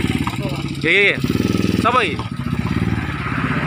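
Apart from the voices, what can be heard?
motorcycle engine with custom exhaust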